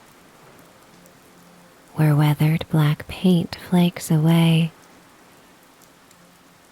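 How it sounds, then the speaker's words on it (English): Soft, continuous rain patters on a weathered, black-painted railing by the sea, a faint even hiss underneath a quiet whispered voice that speaks in the middle. "The rain begins to patter softly on your rain slicker, a rhythmic, percussive sound against the railing"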